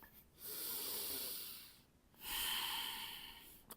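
Two long, deep breaths are taken during a slow stretch, a drawn-in inhale and then a heavy airy exhale. Both are close and breathy, with a short pause between them and no talking.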